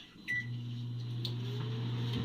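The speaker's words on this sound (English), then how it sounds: "now we're gonna take it over to the microwave. We're gonna nuke it for a minute." A microwave oven heats a sandwich, its steady low hum running continuously and close after a click starts it, with no talking over it.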